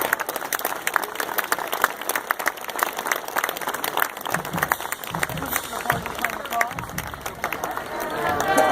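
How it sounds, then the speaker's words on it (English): An audience applauds as a band strikes up a tribute at the close of a formal event, the clapping mixed with music and a voice speaking over it throughout. "please give a round of applause as the band strikes up the tribute to our guests"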